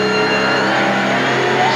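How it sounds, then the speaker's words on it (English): A stock car engine revs loud and steady in a short, sustained roar. "Miller Genuine Draft Rusty on a stock car."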